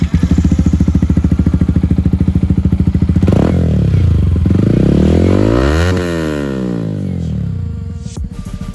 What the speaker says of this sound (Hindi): ये भाई कह रहा था एग्जॉस्ट की आवाज़ सुनने को